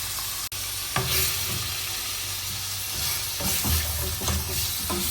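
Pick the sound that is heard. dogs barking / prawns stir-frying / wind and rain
prawns stir-frying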